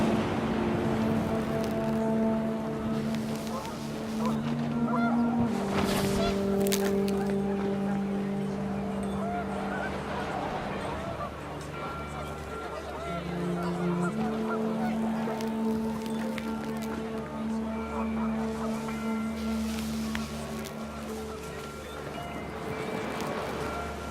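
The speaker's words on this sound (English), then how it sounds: "panicked geese appeared and quickly went" Panicked geese honk repeatedly in What Remains of Edith Finch as wind picks up at an outdoor family gathering by a tent, a steady flock of calls rising and falling over a windy, watery background.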